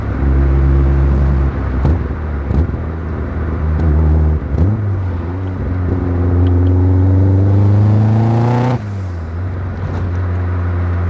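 A turbocharged Mazda MX-5 runs in cold weather, its engine droning loudly and steadily with a few revs climbing in pitch before dropping back to a low idle, close up and alone.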